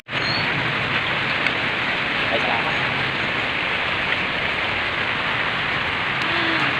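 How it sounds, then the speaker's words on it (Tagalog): Heavy rain pours down in a steady, loud roar on surfaces outdoors, unbroken throughout, with a brief spoken voice over it. "Sobrang lakas ng ulan."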